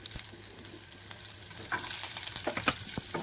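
Field beans (avarekalu) fry in a pan with a steady, close sizzle and a few scraping stirs, growing slightly louder partway through; no voices.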